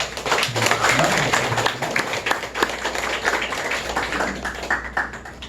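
Applause from a congregation at a patient worship service in a care hospital church, a steady wash of many hands clapping close by, continuing for several seconds.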